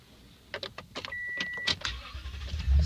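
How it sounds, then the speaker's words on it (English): Power windows on a 2014 Toyota Tundra XP run inside the cabin, giving a steady whirring motor hum for about half a second, set among several short clicks and thumps with faint background noise. "One touch auto on the driver's side, power windows, power locks."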